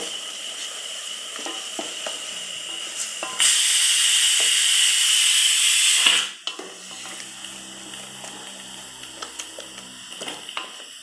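Ginger garlic paste hits hot oil in a pan for chicken biryani, bursting into a loud, steady, hissing sizzle for about three seconds before fading back to quieter kitchen background with small clicks and clatter.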